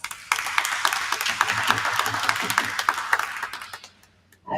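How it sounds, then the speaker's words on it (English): Applause from an event audience for four co-founders, a dense wash of many hands clapping steadily for about four seconds before tapering off, with no voices over it. "let's go ahead and give all four of them a round of applause"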